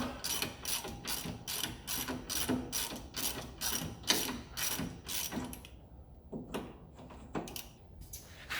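A ratchet tightens a used wishbone bolt on a 132,000-mile Alfa Romeo Brera, giving quick, evenly spaced clicking strokes up close that pause briefly near the end before a few more clicks.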